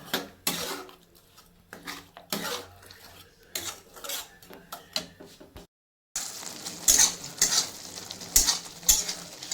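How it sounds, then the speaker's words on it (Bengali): Coconut being stirred with palm jaggery in a pan, heard as repeated scraping and sizzling strokes of a spoon, close and moderately loud, with a brief silence midway and then brighter, clinking stirs. "এখন এটা নারকেলটা পাটালি গুড় দিয়ে ভালো মতো পাক দিয়ে নিব"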